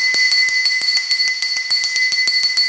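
A bright, continuous electric school bell rings loudly on the first day of school, its metallic clatter pulsing rapidly and evenly for the whole stretch before cutting off abruptly.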